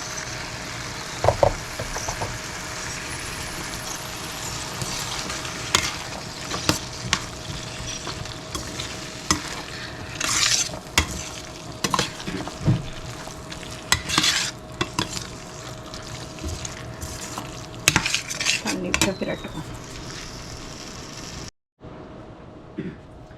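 Food, with ginger and peanuts, sizzles steadily in a hot pan while a utensil scrapes and stirs in repeated strokes, close and continuous, with a brief pause near the end.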